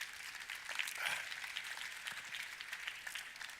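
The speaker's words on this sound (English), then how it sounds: "Please give him a round of applause." An audience at a business talk applauds steadily, a dense wash of clapping throughout.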